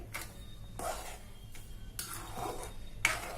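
Sugar being stirred into flattened rice payasam in a pot, heard as a few faint scraping strokes of a spoon against the metal with soft clinks between them, quiet and close.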